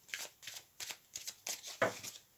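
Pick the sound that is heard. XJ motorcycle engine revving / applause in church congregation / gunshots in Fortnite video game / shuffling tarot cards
shuffling tarot cards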